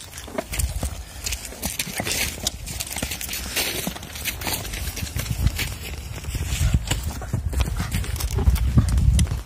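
A stallion's hooves clip-clop steadily over hard ground in a village in Manas district, a dense, continuous clatter of close, loud footfalls with low rumbling underneath for the whole stretch.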